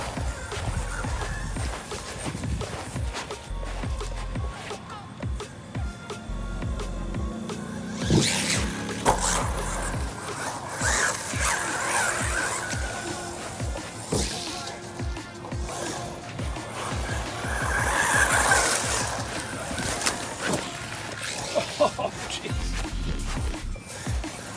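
Rlaarlo Amoril AM-X12 RC car driving across grass, its electric motor whining and surging in bursts with rustling tire noise, fairly close and continuous throughout.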